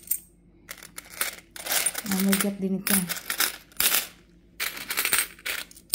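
Coins from a collected donation are handled and dropped, with repeated clinks and jingles in short bursts and a brief rattling pour midway, all close by, while a person talks between the bursts.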